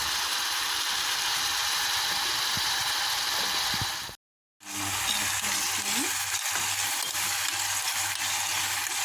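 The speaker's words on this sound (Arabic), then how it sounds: "غادي نضيفو الفلفل باش يتشحروا أكثر" Peppers frying in a pan give a steady, dense sizzle with occasional stirring clicks. A brief gap of silence falls midway, then the close, even frying resumes.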